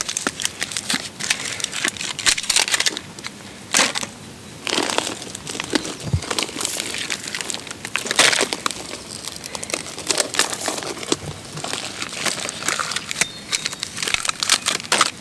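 A crinkly, year-old biodegradable plastic-free bag rustles and crumples in bursts throughout, with a soft thump near the middle and no talking.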